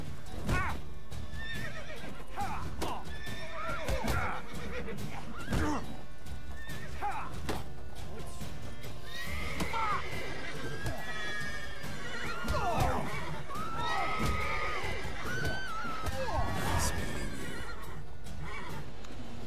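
Horse neighs and clip-clopping hooves in the video game Witcher 3, several loud whinnies and hoof beats close by, with someone talking over much of it.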